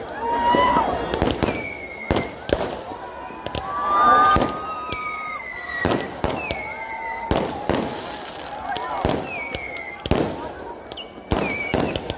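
Repeated loud firework bangs and crackles at a New Year celebration outside a mall, some distant and some close, with whistling rockets and a crowd murmuring and shouting throughout.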